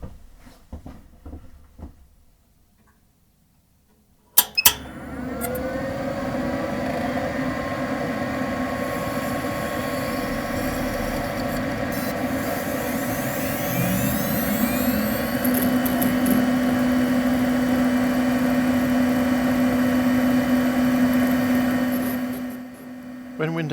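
A sleeper build PC powers up: after a quiet stretch and a sharp click, its fans spin up into a steady, close whirring hum that rises slightly in pitch and holds until the end.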